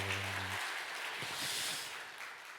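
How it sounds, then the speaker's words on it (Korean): A church congregation claps during a Sunday worship service, a soft, even wash of many hands heard from a distance that holds steady throughout, with a brief low hum at the very start. "박수."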